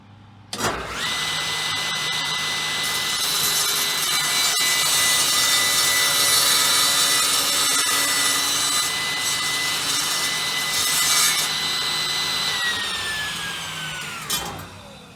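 A loud power saw cuts through wood continuously for about fourteen seconds, the blade's whine held steady before the motor winds down at the end.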